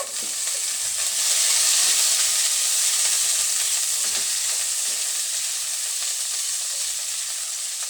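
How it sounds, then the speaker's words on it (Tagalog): Onion sautéing in a pan for chicken sinigang with calamansi, a steady loud sizzle and hiss of frying with occasional stirring scrapes, no voices. "Sunog po natin ang sibuyas."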